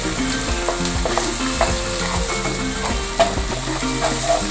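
Ingredients roast in oil in a pan, with mash (urad) dal added, making a loud, continuous sizzle. Repeated scraping and stirring strokes run throughout, close up with no voices.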